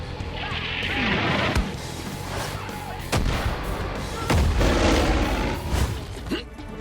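Launcher explosions and gunfire in the video game Far Cry 5: heavy booms and crackling shots pile up continuously, loud and dense, with big blasts hitting around the middle and late in the stretch.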